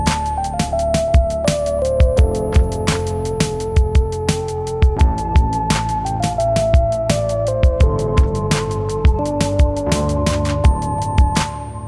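Complete beat made in Maschine, all tracks playing together: steady drum hits with regular snare cracks, a low bass line and sustained melodic tones, loud and continuous without any voices.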